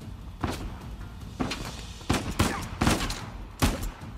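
Gunfire in Uncharted 4, about six sharp shots spaced irregularly, fairly close and moderately loud against quiet game ambience.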